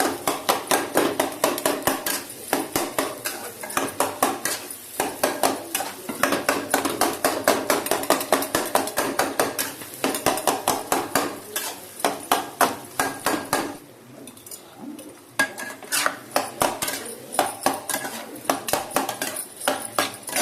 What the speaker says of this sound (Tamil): முட்டை பரோட்டாக்கு எப்படி கொத்துவோம் அதே போல் நல்லா கொத்திக்கணும்